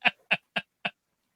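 Four short squawking clucks in a quick, evenly spaced run from birds during the chicken-chasing scene in the 1979 film Rocky II, clear and close, followed by silence.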